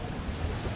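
Strong wind gusting along Legian Beach, a steady broadband roar with low rumble and surf-like wash, continuous and close to the microphone with no voices.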